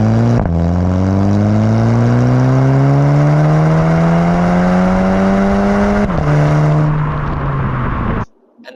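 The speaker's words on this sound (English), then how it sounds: "So this is the throttle in drive. I'm going to accelerate." A 2015 Volkswagen Polo GTI with its 1.8 TSI engine accelerating in drive, a loud close engine drone rising steadily in pitch, dipping briefly at a gear change, then climbing again before cutting off abruptly.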